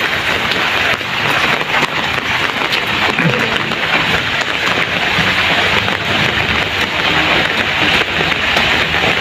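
Steady, dense patter of rain drumming on a taut umbrella canopy close overhead, constant and loud, with faint street noise beneath.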